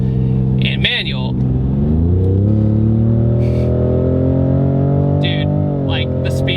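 A 510-horsepower Ford Raptor EcoBoost accelerates hard, its loud, close engine note climbing steadily in pitch through the gear with a brief flutter near the start.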